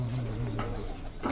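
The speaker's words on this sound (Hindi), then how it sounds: "कबूतर बहुत अच्छा कबूतर बहुत अच्छा" Hobby pigeons coo in a low, continuous droning burble close at hand, broken by a couple of brief rustling bursts.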